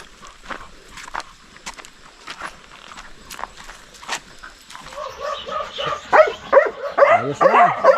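A pet dog moving outdoors, with a run of quick footfalls or pattering steps that grow louder and closer toward the end.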